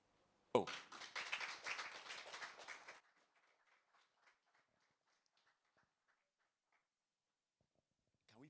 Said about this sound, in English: Can we pay you for clapping?